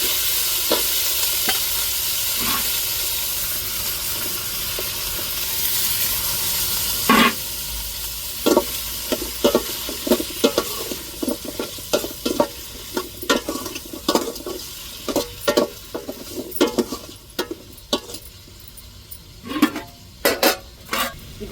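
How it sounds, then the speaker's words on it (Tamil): Drumstick, brinjal, tomato and chilli sauté in a tempering. An even sizzle comes first, then a busy run of sharp spoon-and-pan scrapes and clinks from about midway. "இப்போ காய்கறியை தாளிப்புலையே நல்லா வதக்கி வச்சுக்கிறோம்."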